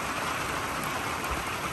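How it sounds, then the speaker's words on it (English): Pouring rain at the start of fall after a dry summer, a dense and unbroken hiss of falling water, steady and moderately loud, with no voices. "so we are excited to see the rain. You can see and hear."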